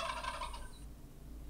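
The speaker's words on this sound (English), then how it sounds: "Turkey." Domestic turkey gobbling once in a rapid rattling burst, close and fairly loud, then fading into quiet farm background.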